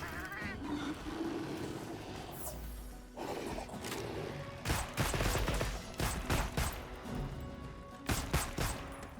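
Rapid-fire bowgun shots in the Monster Hunter Wilds video game, a run of sharp repeated bursts in quick succession over a busy game soundscape of rumbles and crashes, moderately loud.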